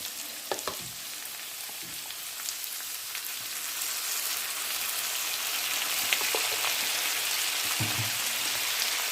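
Garlic prawns cook in a pan with a bright, continuous sizzle that grows slightly louder, with a few light clicks and scrapes in between.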